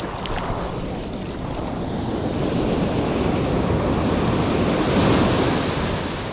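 Ocean waves surge and wash onto a beach at Los Cabos, Mexico, loud and close, swelling toward the end, with gusty wind buffeting the microphone and no talking.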